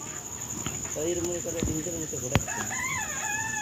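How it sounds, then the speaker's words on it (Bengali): Large roosters of about 7 to 8 kilograms and young tiger chickens kept together in a rooftop poultry pen cluck and call softly amid steady insect-like hiss and background murmur. "এখানে কয়েকটা মোরগ রাখা আছে একত্রে।"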